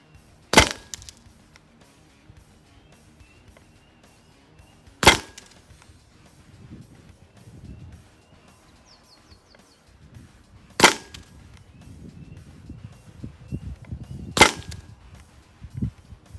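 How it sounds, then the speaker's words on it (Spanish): A Hatsan Blitz .25 air rifle fires four sharp, well-spaced shots in semi-automatic mode outdoors at a 40-metre target, each crack brief and loud, with quiet rustling and handling noise between them. "hicimos 5 disparos"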